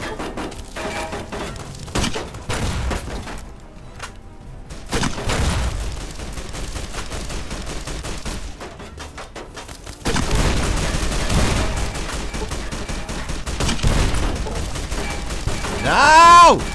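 Loud bursts of gunfire and heavy impacts from the video game Fallout: New Vegas, coming in repeated volleys with short gaps, while a voice speaks briefly.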